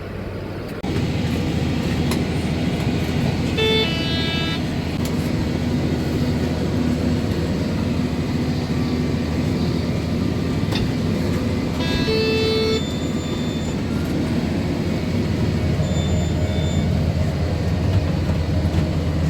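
A farm tractor heading out to spread fertilizer across small fields, its engine a steady, loud, continuous drone for the whole stretch, with faint mechanical clinks and tonal squeaks now and then.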